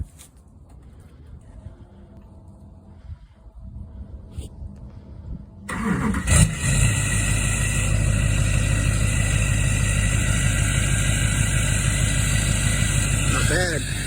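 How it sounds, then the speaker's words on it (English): LMM Duramax diesel engine cold starting after sitting a week: a quiet stretch with faint birds, then cranking catches and the engine roars to a loud, steady rough idle that holds to the end, with voices heard. "LMM Duramax cold start after a week of setting."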